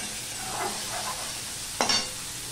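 Fish frying in a small amount of mustard oil in a pan, a steady soft sizzle running throughout with a brief louder crackle near the end.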